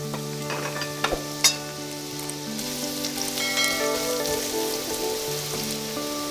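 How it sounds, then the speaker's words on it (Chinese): Shredded carrot goes into leftover oil in a hot wok and is stir-fried with a busy crackling sizzle, a few clanks near the start, and steady frying over faint background music. "锅中留底油，再次起锅，然后下入胡萝卜丝儿。我们先炒一下胡萝卜丝儿。"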